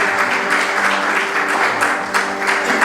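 A conference audience gives loud, sustained applause, a dense and even roar of many hands clapping that lasts the whole three seconds, with a faint steady tone humming underneath.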